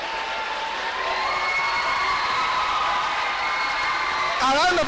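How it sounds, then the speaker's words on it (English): An indoor audience at a school science-and-art debate claps and cheers for the debate champions, a steady dense wash of applause and crowd noise, with a brief shout or whoop rising near the end. "A round of applause for all of them."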